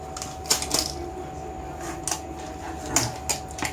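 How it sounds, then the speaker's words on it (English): A cardboard box for a Logitech K380 Bluetooth keyboard is handled and opened, giving several short, sharp cardboard clicks and scrapes at irregular intervals, close and fairly quiet. "So let's open the box up."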